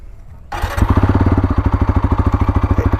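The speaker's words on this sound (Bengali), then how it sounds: "চলো একটু এক্সজস্ট নোট তোমাদের শুনিয়ে দিই বাইকের সাউন্ডটা কেমন আছে" TVS Apache RTR 160 4V motorcycle, a 2024 model, idling in neutral after a quiet start; its exhaust putters in a steady, rapid low thump, close and loud, with no talk.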